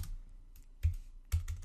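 Keys on a computer keyboard are struck in a few separate, close, fairly soft taps with short pauses between, with no talking over them.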